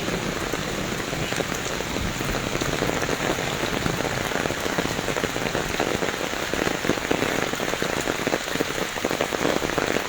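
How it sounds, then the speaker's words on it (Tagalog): Heavy rain pours steadily on a farm planted with fruit trees, a dense continuous hiss with scattered pattering drops, loud and close, with no voices. "grabe yung ulan, no?"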